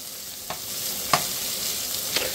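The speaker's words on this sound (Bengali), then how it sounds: "তারপর এখানে তেলে পেঁয়াজটা ব্রাউন হওয়া পর্যন্ত ফ্রাই করব" Chopped onions fry in hot oil with a steady broadband sizzle, punctuated by a few brief stirring scrapes near the pan; no voices.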